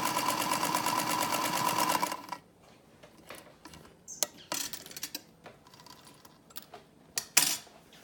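Sewing machine back stitching, a fast rapid rattle for about two seconds that stops abruptly, followed by quieter scattered clicks and taps of handling the fabric and machine.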